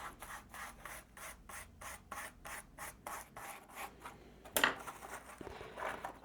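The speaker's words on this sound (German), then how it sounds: "Dann nehme ich mir Pigmente in Schwarz und fahre hier oben einfach mal richtig schön kräftig drüber." Black pigment is rubbed hard onto a model corrugated metal sheet for a gauge 0 model railway shelter, making a close, rhythmic series of dry scratchy strokes, about a dozen evenly spaced, followed by a sharp knock and rougher rubbing.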